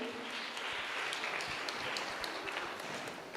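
Church congregation applauding after a healing testimony, a steady dense wash of clapping held at moderate level throughout, somewhat distant and reverberant.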